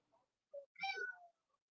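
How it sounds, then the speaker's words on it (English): A house cat gives a single clear meow close up, preceded by a brief soft chirp, in an otherwise quiet room. "Kitty?"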